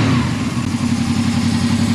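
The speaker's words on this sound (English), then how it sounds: "Give it a little rev," A Honda VFR800 VTEC motorcycle engine held at a steady, slightly raised rev during starter valve synchronization, a close, even mechanical drone with no voices.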